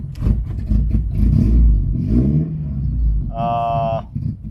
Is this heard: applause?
no